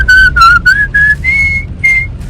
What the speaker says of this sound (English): my car is literally like whistling non-stop